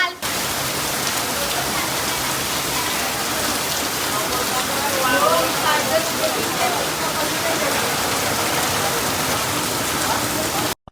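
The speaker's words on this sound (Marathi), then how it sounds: "पाऊस पडतो ना." Steady rain falls during a monsoon trip to Goa, a dense, even hiss of drops on surfaces that continues uninterrupted at close range, with faint voices barely audible beneath it.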